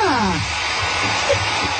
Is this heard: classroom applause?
no